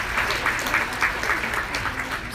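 Steady applause from an audience at a dental seminar, dense and continuous throughout, with no one talking over it.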